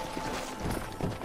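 In Red Dead Redemption, a horse trots along with hooves clip-clopping in a quick, uneven patter, moderately close under a steady background wash, and no one talks.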